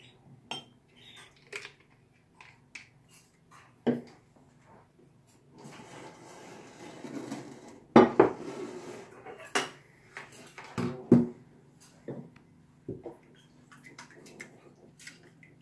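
Leche flan ingredients with vanilla extract being mixed in a bowl, heard as scattered utensil clinks and scraping taps, sparse and quiet, with a few louder knocks in the middle and faint room noise.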